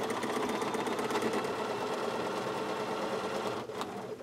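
A sewing machine stitches steadily along the crease of a pillow sham, a fast, even mechanical whir and chatter heard up close and alone, easing slightly near the end.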